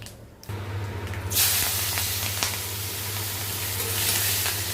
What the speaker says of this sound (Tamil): பொடியாக நறுக்கி வச்சுருக்கிற பச்சை மிளகா அண்ட் கருவேப்பிலையை முதல்ல போட்டுருங்க